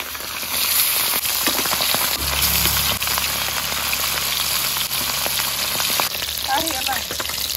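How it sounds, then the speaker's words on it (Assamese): Fish frying in a pan of oil in a village kitchen, a steady loud sizzle and crackle that runs unbroken throughout, with faint clinks near the end. "ইফালে এতিয়া মাছ ফ্ৰাই কৰিম"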